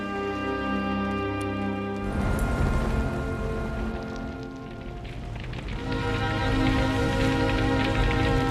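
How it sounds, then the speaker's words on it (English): Rain falls during a stormy night as a steady, dense hiss of drops on surfaces that thickens after the first couple of seconds, set under a prominent musical score. "Late one rainy night, Homer rushed through the storm to reach the site."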